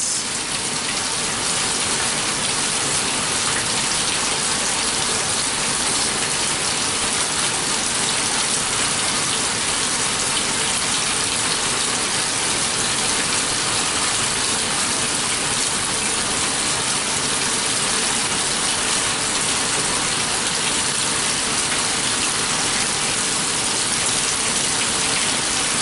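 A Laundry Alternative Superpop washer fills with water for the rinse, a steady loud rushing gush that runs unbroken and close throughout.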